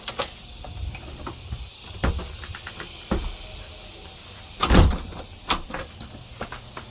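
A door slides and clunks open and shut a few times, with soft thuds and rattles against quiet room noise.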